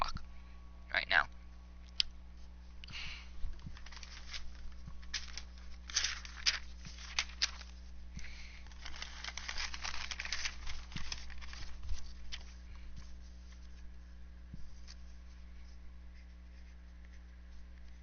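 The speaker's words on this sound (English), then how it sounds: "Just had to write something down quick." Someone writing something down in a hurry, with scratchy, uneven strokes and light clicks in bursts, near and fairly soft over a steady low hum, with faint low murmuring at times.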